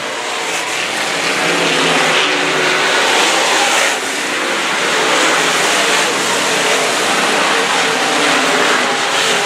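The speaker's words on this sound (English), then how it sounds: "Tanner Mullens is just stretching that lead out." A race car roars past at Heartland Park in Topeka, a loud, continuous engine drone holding steady for several seconds with a slight dip midway, heard from close trackside.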